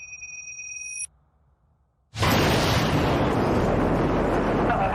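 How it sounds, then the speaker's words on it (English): A loud, sudden blast outside the Russell Street police building, preceded by a faint tone and a brief hush, then a sustained roaring rumble that fills the space for several seconds. "loud explosions that took place outside the front of the complex."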